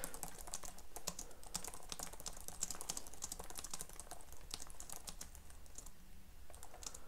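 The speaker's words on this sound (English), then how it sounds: "the keyboard itself, which is a absolute joy to type on." Steady typing on the backlit keyboard of a Sony VAIO VPCZ1 laptop, a dense run of close, crisp key clicks with no speech.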